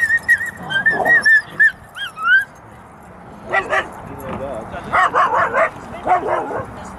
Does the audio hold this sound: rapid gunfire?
no